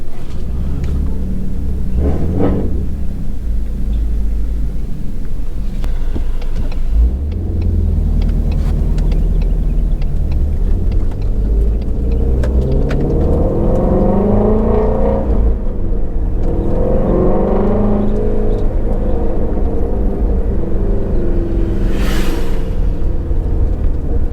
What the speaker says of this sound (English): the exhaust sounds a little throatier